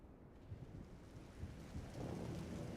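Steady rain with a low rumble of thunder building underneath, a dense broadband wash that grows slightly louder toward the end.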